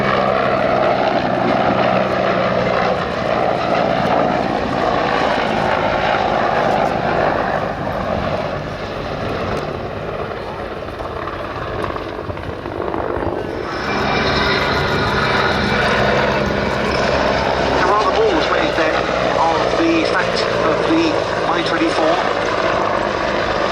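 A Hind helicopter flies at the Duxford air show, a loud continuous rotor and engine roar that dips and swells as it passes, with a commentator's voice talking over it.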